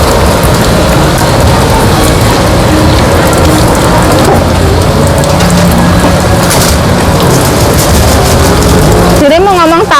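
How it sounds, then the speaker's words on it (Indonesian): Heavy rain falls in a loud, unbroken hiss with occasional mechanical rattling, while voices talk underneath. "Karena hujan ya, jadi kayak cuacanya itu nggak bagus."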